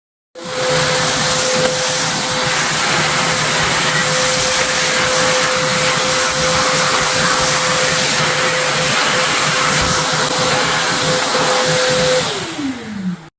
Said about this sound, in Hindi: अब मैं वैक्यूम क्लीनर को चालू करने वाला हूँ और देखते हैं कि ये इसको क्लीन कर पाता है या नहीं कर पाता है।